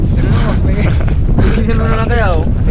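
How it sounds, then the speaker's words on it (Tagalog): Strong wind at sea roaring into the microphone as a continuous loud rush, with people talking over it throughout. "Lakas ng hangin."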